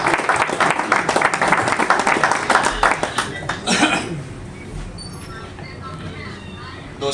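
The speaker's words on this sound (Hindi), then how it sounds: "एक बार जोरदार तालियां रावत सर के लिए।" Loud applause rises from the audience at a one-day leadership development programme. It thins out after about four seconds and leaves a quiet room with faint murmurs.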